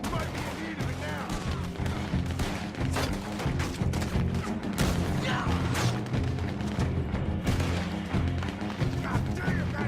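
A mounted gun on a war wagon in Red Dead Online fires repeated loud bursts amid scattered shots, thuds and crashes, with voices talking and shouting throughout.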